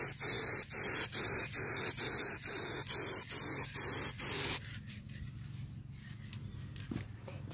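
Spray paint hisses onto a microwave in a series of rapid, loud, close bursts with brief gaps between them. The hissing then gives way to quieter handling noise and soft rustling.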